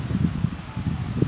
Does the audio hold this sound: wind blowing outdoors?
yes